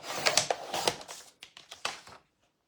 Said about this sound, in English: just gonna take out my trimmer. We're gonna cut this in half.